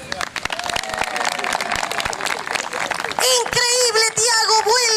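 An audience claps and cheers after a circus-style balancing trick, a dense burst of applause up close that fades as excited voices and shouting take over.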